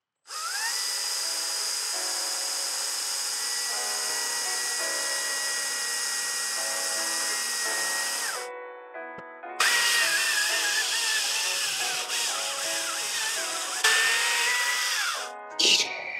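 A power tool whines steadily as it cuts into a log being sliced into wooden coasters, running loud for about eight seconds, pausing, then starting again with shifting pitch before stopping.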